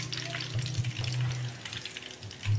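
Chicken pieces frying in hot oil in a home kitchen, giving a steady close crackling sizzle with bursts of bubbling throughout.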